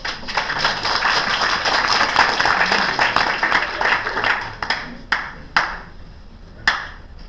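An improv show audience gives a round of applause of moderate loudness that thins out into a few separate, sharp claps near the end.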